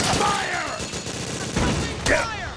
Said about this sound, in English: I'm just firing bullets.